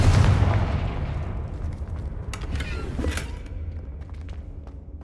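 A Confringo fire spell bursts in Hogwarts Legacy as a loud, close explosive blast that fades over a few seconds into low rumbling with scattered crackles and clicks.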